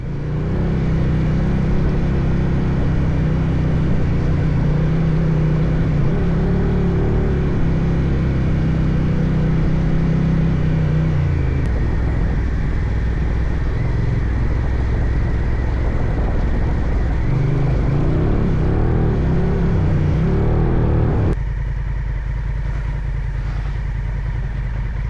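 A CFMoto 450 adventure motorcycle rides a loose gravel track in Whirinaki Forest. Its engine gives a loud, continuous drone whose tone shifts slightly as the ride goes on, then changes more noticeably near the end.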